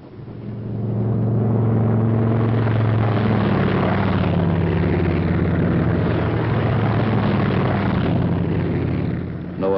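WW2 P-47 Thunderbolt fighter planes taking off, a loud sustained propeller engine roar with droning tones that shift in pitch, rising in at the start and fading slightly at the end.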